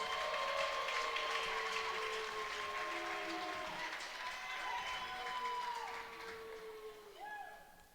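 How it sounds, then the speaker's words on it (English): A college wrestling crowd at a UNCP senior night chants a drawn-out "Stu" for wrestler Stuart Nadeau, the long sustained calls rising and falling across the arena before fading toward the end. "And that's not the fans booing, they're actually saying, Stu."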